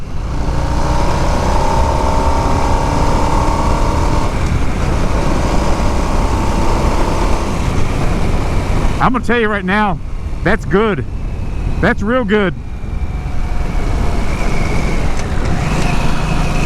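A 2022 Harley-Davidson Nightster's liquid-cooled motorcycle engine drones steadily throughout at close range in rain mode during a test ride, while someone talks over it in short bursts.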